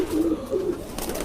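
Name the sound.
pigeons cooing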